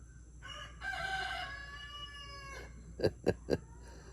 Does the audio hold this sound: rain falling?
no